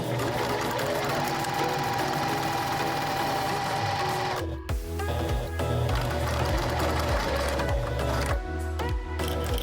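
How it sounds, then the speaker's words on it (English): Juki TL-18 sewing machine stitching in a steady mechanical rhythm, then jamming with repeated knocking, stuttering stops and restarts near the microphone; no talking. "Here is me jamming the machine multiple times before having a breakdown"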